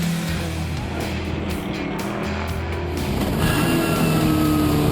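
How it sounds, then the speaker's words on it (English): Historic race cars, including V8 machines, race on a circuit, a continuous loud engine roar with a rising note as cars pass close by, no talk. "Oldies and classic cars in race trim fight for positions on the track"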